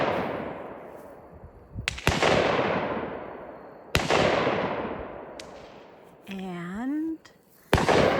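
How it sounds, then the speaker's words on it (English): Sharp, loud gunshots crack at an outdoor shooting range in a conservation area, several in irregular succession, each trailing a long echoing decay. A brief rising whistle-like tone sounds near the end. "We're at the shooting range. It's really loud."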